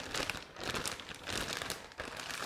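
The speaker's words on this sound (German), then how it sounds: "zum Marinieren mache ich es dann in einen Gefrierbeutel" A plastic freezer bag crinkles steadily as a piece of beef for roast beef is put in to marinate, a close, continuous rustle with soft crackles and no talking.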